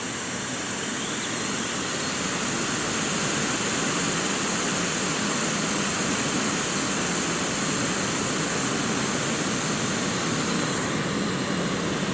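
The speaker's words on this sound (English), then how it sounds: "probably be able to actually hear it doing a rolling boil as well." Water at a rolling boil in a titanium camping pot, a continuous broad roaring hiss that holds steady and fills the whole stretch.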